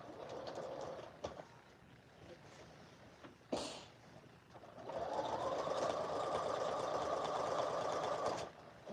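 A sewing machine hems the bottom edge of a blouse, first in short stop-start bursts with handling clicks, then in one long steady whirring run of stitching, close and clear.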